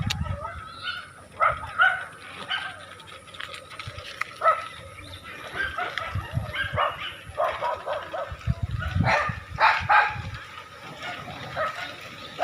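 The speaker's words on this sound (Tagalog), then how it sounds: "Ang daming aso." Several dogs bark and yelp loudly and close by in repeated overlapping bursts, with some whimpering mixed in, on an outing in the Philippines.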